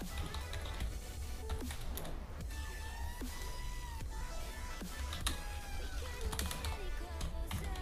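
Computer keyboard keys click in a quiet room while text is entered into Microsoft Word. The clicks are soft, irregular and close, with a faint voice in the background.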